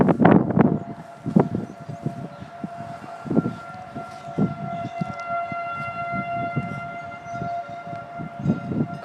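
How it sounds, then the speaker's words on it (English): A 2001 SRMB outdoor civil defense siren sounds during a county siren test in cold, blustery weather, giving a steady, distant wail under gusty wind noise. "this first siren that I said, you can look it up on my channel. It is a 2001 SRMB."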